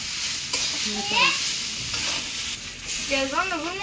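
Noodles cook in a pan on a gas stove with a constant bright sizzle, while voices talk briefly over the frying.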